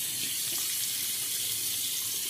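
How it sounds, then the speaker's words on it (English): Tap water runs steadily onto a shaving brush during a wet shave, a continuous close hiss and splash with no voices. "I'm trying to put a little water on my brush to get more moisture in it."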